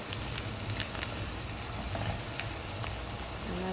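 Onions frying in a pan for chicken tehari, a steady soft sizzle with light crackling pops, close and continuous with no talking.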